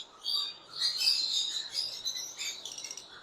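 Pet birds in a bird shop in Islamabad chirp and tweet in quick, high-pitched bursts, several calls overlapping close by against a quiet background.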